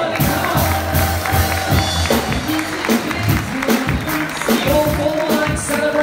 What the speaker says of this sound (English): Give us a cheer, everybody.